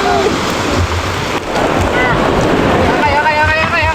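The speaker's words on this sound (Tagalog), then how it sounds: "Biglang lumakas yung alon." Loud, steady rush of surging sea waves with heavy wind buffeting the microphone and faint voices mixed in.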